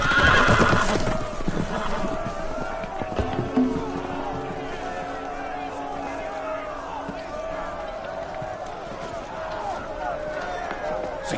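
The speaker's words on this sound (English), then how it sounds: "The horses! They're loose!" Several loose horses neigh and whinny loudly over galloping hoofbeats, with a shrill whinny at the start and hooves pounding on through the rest, set in a Game of Thrones battle scene with shouting voices mixed in.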